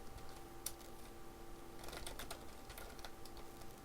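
Quiet, steady typing on a computer keyboard as a file name is entered, with dense, irregular key clicks throughout and a few slightly louder taps, heard alone without talk.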